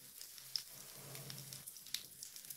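Meatballs brown in a frying pan with a very quiet, soft continuous sizzle and faint crackles, with no talking.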